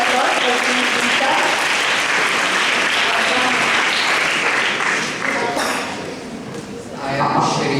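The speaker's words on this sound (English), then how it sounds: "Give a round of applause for Team Beta." An audience at an inter-school maths competition gives loud, dense, sustained applause that eases slightly near the end, with voices audible in the room.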